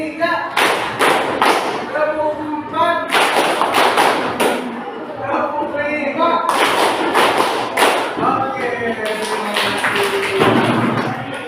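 Rhythmic hand clapping in steady counted bursts of five, loud and close, alternating with a teacher's voice calling out counts between the claps in a classroom lesson.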